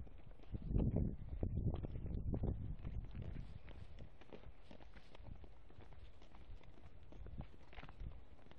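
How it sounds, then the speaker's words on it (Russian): A small pony walking at a zoo in Termez, its hooves clopping in a loose rhythm close by, stronger at first and then softer, with wind buffeting the microphone. "Вот лошадь, маленькая пони."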